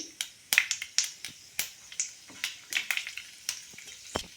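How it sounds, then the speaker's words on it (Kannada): Mustard seeds, chana dal and urad dal crackling in hot oil for sabudana khichdi, a quiet sizzle punctuated by sharp irregular pops and snaps spread across the whole stretch. "ಎಣ್ಣೆ ಜೊತೆಗೆ ಒಂದು 1/2 ಟೀ ಸ್ಪೂನ್ ಅಷ್ಟೇ ಸಾಸಿವೆ ಹಾಕ್ಕೊಳ್ತೀನಿ"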